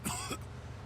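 A single close, harsh cough from an injured character in the Mafia 2 video game, a short throaty burst followed by a fading rasp over a low background hum.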